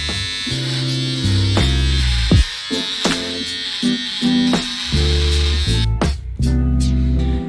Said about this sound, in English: I need to clean shave